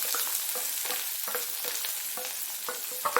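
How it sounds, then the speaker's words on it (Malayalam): Onion, ginger and green chilli sauté in a pan, making a continuous frying hiss broken by frequent scraping stirs and light clicks, close and fairly loud, with no speech. "ഇതൊന്ന് വഴറ്റിയെടുക്കാം."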